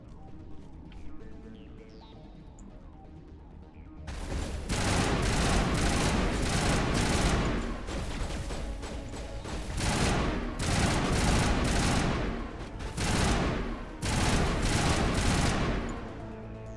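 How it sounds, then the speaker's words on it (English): Assault rifle fire in Mass Effect Legendary Edition, on the frozen world of Noveria, comes as loud, close, repeated bursts after a few quiet seconds, with short gaps between the bursts. "Let's get our assault rifle back out."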